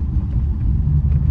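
A car's engine idling steadily, a low continuous rumble heard close up and alone, with no voices over it.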